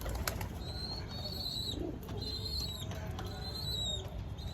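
Pigeons settling into their home loft at evening give soft coos, with a brief flutter of wings partway through, over a constant low background hum and some distant higher bird calls.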